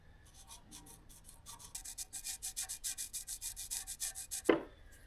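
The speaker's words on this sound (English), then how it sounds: "we are going to go ahead and throw on some marker lines" A marker is drawn in short repeated strokes across 120-grit ground metal, giving a close, scratchy rubbing rhythm that quickens and ends in a sharp tap.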